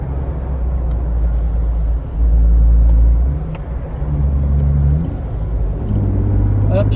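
A Jeep Wrangler JK with no muffler cruising in fifth gear at about 55 mph, its low, loud exhaust drone swelling and easing under light throttle changes, with a voice at times over the cabin rumble.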